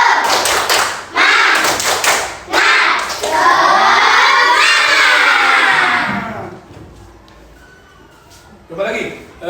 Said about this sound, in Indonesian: Coba Bapak suruh tepuk semangat.